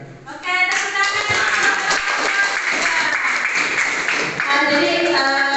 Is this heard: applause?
yes